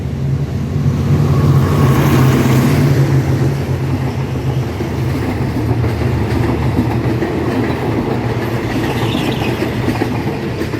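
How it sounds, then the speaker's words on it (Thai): A train rumbles past loudly and close, wheels clattering rhythmically over the rails in a continuous heavy roll. "ก็บรรยากาศเมื่อรถไฟผ่านไปแล้วนะ"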